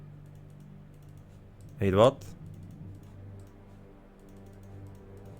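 Keys clatter on a computer keyboard while someone plays Age of Mythology: Retold, a soft, steady run of taps beneath a short burst of speech.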